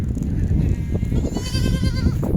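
Kathiawadi goats bleat nearby in a wavering, drawn-out call over a low rumble of background noise.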